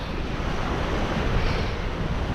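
Waves breaking along the shore of the River Stour estuary, steady close roar of surf mixed with wind buffeting the microphone, continuous and loud with no voices.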